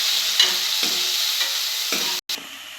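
Onion and curry leaves being stirred in a hot pan, steady frying sizzle with several scraping strokes of the spoon and a brief gap near the end.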